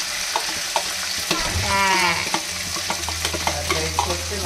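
Beaten egg seasoned with salt and pepper sizzles in a hot pan while a utensil stirs and scrapes with a string of quick taps. A louder hiss swells midway as the egg hits the oil, all close and without speech.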